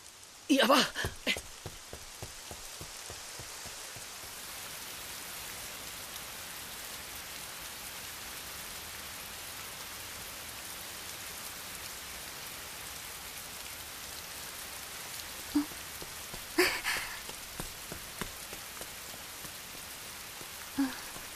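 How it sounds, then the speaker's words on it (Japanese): Steady rain falls in a continuous soft hiss, with a few louder taps and spatters near the start and again later, and no voices heard over it. "あ、雨。"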